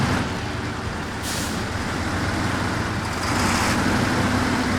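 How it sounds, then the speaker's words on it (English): A big truck grinds off-road through rough terrain in a driving video game, its heavy engine droning loud and steady with hissing air bursts and a slight swell toward the end, no voices over it. "these big trucks are a lot of fun to drive"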